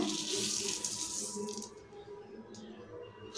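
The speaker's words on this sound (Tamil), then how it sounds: "இப்போ உணர்ன அரிசி பருப்பை ஒரு பேனில் சேர்த்துக்குவோம்" Dry rice and lentils tip into a pan as a dense, close granular rattle that thins out partway through and ends with a few scattered grains settling, with no talking.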